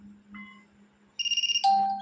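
A vivo Y3s phone previews an alarm ringtone up close. A soft chime sounds first, then a quick run of bright, bell-like tones in a steady rhythm, with no talk over it.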